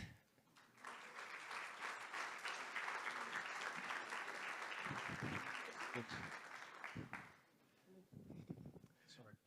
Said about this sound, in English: Please give a round of applause for Sérgio Pina with Auroramed.